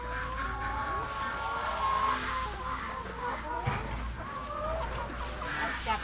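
Chickens cluck in a coop, with a steady chorus of close, overlapping clucks and calls while people talk nearby.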